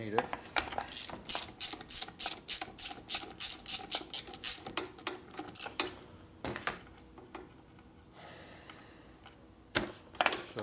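A ratchet backs a nut off a 1950s Harley panhead in a workshop, giving a fast run of about fifteen sharp clicks, then a pause and a few more isolated clicks, with faint voices in the background.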